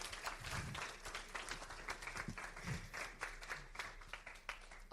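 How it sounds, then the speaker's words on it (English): An audience applauds at a campus talk on mental health, a steady spread of clapping from many hands held at moderate level throughout, with a few faint murmurs underneath. "I think that deserves like an applause"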